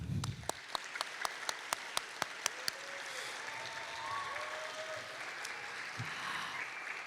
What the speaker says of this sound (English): Can we get a grad clap?